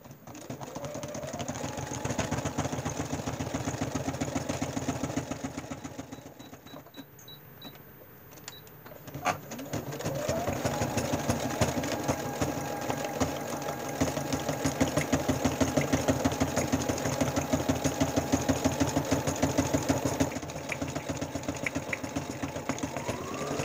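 A sewing machine stitches plastic vinyl with a steady, close mechanical whir. It pauses briefly midway, then starts up again and runs continuously to the end.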